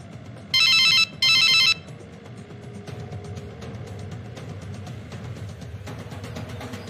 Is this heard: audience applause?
no